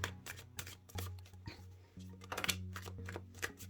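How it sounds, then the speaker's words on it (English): Tarot cards are shuffled softly and repeatedly, a series of light, papery riffles and taps close by over a faint low hum. "I'm going to shuffle these real quick"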